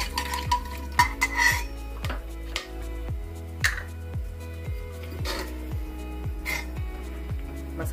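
Cinnamon stick, black and green cardamom and two red chillies crackle in oil for Punjabi chicken gravy, a soft sizzle under repeated rhythmic spoon stirring and metallic clinks against the pot, close by, with a low steady hum beneath.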